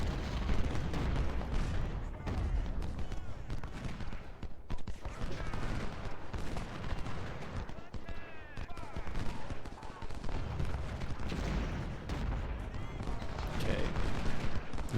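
Dense cannon and rifle fire from a Civil War battle in a strategy game, a continuous barrage of overlapping shots and booms throughout with no pauses.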